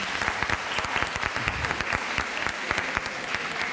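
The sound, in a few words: audience applause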